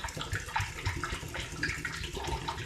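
Homebrew black fuchsia cider pours from one container into another in a continuous splashy, gurgling stream, close and steady, with no talking.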